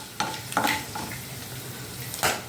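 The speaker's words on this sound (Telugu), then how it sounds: "కాస్త వేగాలన్నమాట, కొంచెం లైట్ బ్రౌన్ అయ్యే వరకు" Onions and green chillies fry in a pan with a low, steady sizzle, broken by a few short scraping stirs and one louder clatter of a utensil near the end.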